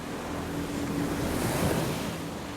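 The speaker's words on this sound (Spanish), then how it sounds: "Recuerdo esas olas y su sonido." Steady roar of ocean surf washing in, broad and rushing with a gentle swell in loudness, mixed with some wind noise and no voices.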